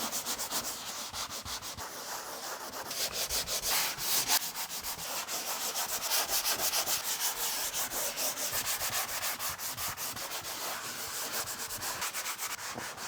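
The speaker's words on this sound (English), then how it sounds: "now we just have to sand them down and get it nice and smooth" Patched spots on an interior wall are sanded smooth by hand during a home office remodel. The scratchy rubbing strokes are close and loud and repeat rhythmically throughout, with no voices.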